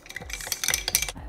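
A spoon stirs coffee with coconut oil in a cup, making a quick run of close, light clinks and scrapes against the sides over about a second, with no speech.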